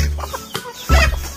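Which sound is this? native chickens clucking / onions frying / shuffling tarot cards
native chickens clucking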